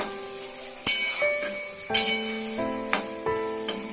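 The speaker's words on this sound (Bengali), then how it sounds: "এটাও আরেকটু দিয়ে, এটাও আরেকটু নাড়াচাড়া করে ভেজে নেবো।" Green peas and mixed vegetables for vegetarian fried rice sizzle steadily in a wok, with a few sharp scraping stirs of the spatula at intervals, close by and with no talking.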